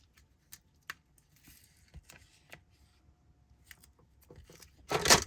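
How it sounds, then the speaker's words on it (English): Several short, sharp snips and clicks spaced irregularly, quiet and close, ending in a louder rustling burst. "put those scissors right there"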